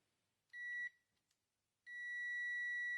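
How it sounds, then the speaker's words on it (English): Continuity-test beeps from a Tesmen TM510 smart multimeter as the probes touch both ends of a wire: a short, clear electronic tone, then after a pause a second tone that holds steadily to the end. "Hear that buzz and that green light?"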